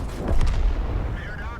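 A video game tank cannon fires a high-explosive round with one deep, booming blast that quickly fades, followed by a brief mechanical whine.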